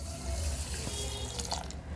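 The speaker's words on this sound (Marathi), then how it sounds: "यामध्ये 100 ग्रॅमसाठी मी आता हे 1 कप पाणी घालते" Plain room-temperature water, about a cup, pours from a vessel onto garden cress seeds in a kitchen, making a close, steady splashing trickle for a couple of seconds before easing off.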